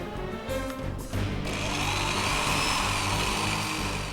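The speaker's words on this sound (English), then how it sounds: "This drill bit is diamond tipped, one of the hardest materials known to man." Diamond-tipped drill bit boring through marble, giving a steady, loud grinding whine that settles into a continuous high-pitched drone after a brief uneven start.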